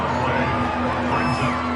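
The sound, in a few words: stadium crowd cheering in football video game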